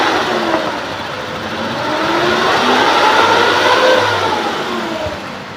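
The engine of a 2003 Suzuki Futura Realvan GRV family van runs loud and close, holding a steady mechanical drone that rises slightly in the middle before settling back.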